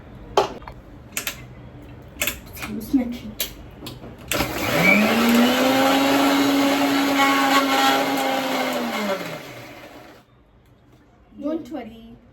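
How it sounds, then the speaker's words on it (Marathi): A kitchen mixer grinder blending green chutney for sandwiches whirs loudly and steadily for about six seconds with a rising then falling motor pitch, framed by brief knocks and handling clatter before and after. "आता आपण मिक्सरला वाटून घेऊया"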